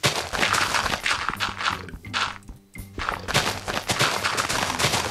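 Modded Minecraft gunfire, dense loud bursts of rapid shots that fill nearly the whole stretch, pausing briefly near the middle before resuming.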